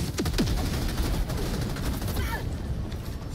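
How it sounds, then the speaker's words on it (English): Sustained gunfire in Helldivers 2 aimed at an enemy fabricator, a loud, continuous automatic barrage of overlapping shots close up, fading slightly toward the end. "Now let me shoot your fabricator."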